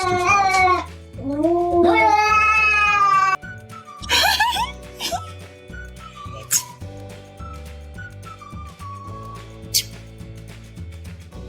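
A yellow cat meows repeatedly in loud, drawn-out, wavering cries that rise and fall in pitch, interrupted by a whistle-like squeal, with a brief spoken word and cartoonish background music underneath.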